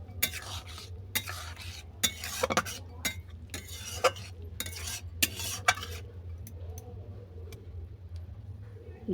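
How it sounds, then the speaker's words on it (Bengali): Fried small chuno fish being stirred in a pan with a bitter gourd curry, a run of sharp metal spoon scrapes and clinks in quick irregular bursts over a low sizzle, close by, quieter toward the end. "এটাকে অল্প করে নেড়ে চেড়ে আমি নামিয়ে নেব"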